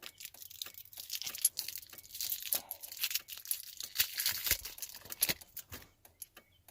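Tape crackles and tears in irregular bursts as it is peeled off two resistors taped together, from LED tail light wiring on a 1999 Dodge Ram, close and fairly quiet with no talking.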